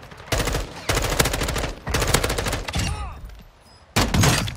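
Rapid automatic gunfire from a first-person shooter video game rattles in three loud, sustained bursts separated by short pauses, with faint game effects in between and no talking over it.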